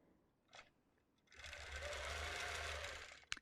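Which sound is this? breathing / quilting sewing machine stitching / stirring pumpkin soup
quilting sewing machine stitching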